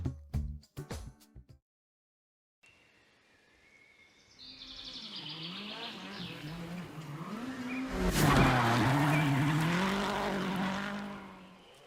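A race car's engine revs up with tire squeal and a skid, rising in loudness to a harsh peak partway through and then holding, with no talk.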